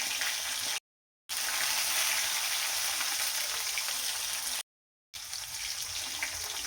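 Garlic frying in well-heated oil for a Maharashtrian amti, a steady close broadband sizzle and crackle that cuts out abruptly twice before resuming at the same level, with no talking.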